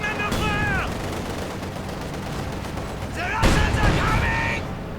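Bursts of gunfire ring out during a 1v1 Company of Heroes 2 battle with tanks and infantry, two loud, broadband volleys separated by a rumbling stretch of battlefield noise.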